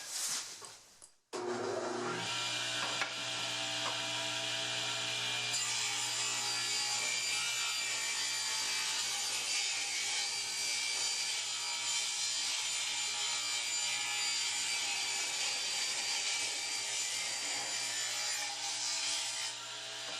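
A saw cuts steadily along the edge of a wood board for a cabinet skirt, a continuous loud rasping drone after a brief pause at the start, running unbroken to the end.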